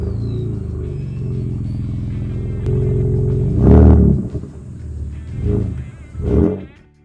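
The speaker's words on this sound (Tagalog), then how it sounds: "V6 are the twin exhausts, no? Active valve exhaust." A 2025 Ford Ranger Raptor's twin-turbo 3.0-litre V6 idles with a deep rumble through its active valve exhaust, then is revved hard several times in loud bursts that swell and fall back, with no talking.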